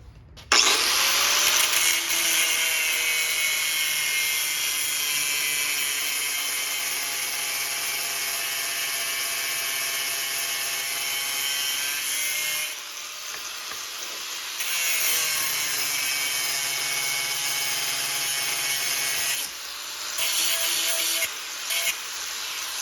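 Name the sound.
cutting off a bolt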